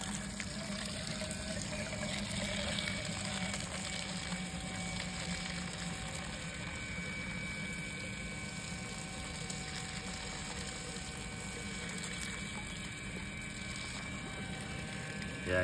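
A Milwaukee M12 12-volt cordless submersible stick water pump drains water from a bed, giving a steady, even mechanical hum with faint watery rattling throughout, with no speech.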